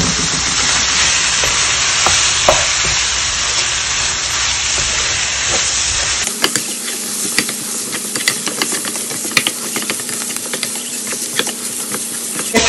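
Chicken or lamb liver hits a hot pan and fries with a steady, loud hiss and crackle, joined partway through by a busier layer of sizzling and spattering that holds to the end.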